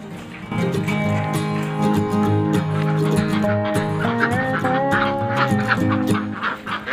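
Laying ducks on a small farm of about a hundred birds quack and honk continuously in a dense, overlapping chorus, loud and close, with no talking.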